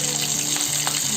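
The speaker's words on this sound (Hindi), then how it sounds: "अभी ये चिकन का पीस एक साइड से ये फ्राई हो गया।" A chicken piece, already cooked inside, fries golden brown on one side in a pan, giving a loud, steady sizzle and crackle with no voices.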